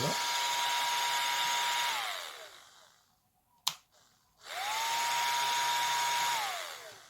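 An Arzum 2200W hair dryer motor whirs steadily, switches off and winds down, a sharp click sounds in the quiet, then it starts up again and runs steadily.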